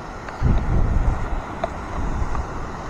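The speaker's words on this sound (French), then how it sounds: "Je ne sais pas si on m'entend bien avec le vent, les vagues." Gusts of wind buffet the microphone over a low, rolling wash of waves, rough and fairly loud, with no voices.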